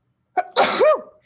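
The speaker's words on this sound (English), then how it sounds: "I am not remaking this video because I sneezed." A single person's sneeze, a sharp intake followed by a loud explosive burst close up indoors, with no talk during it.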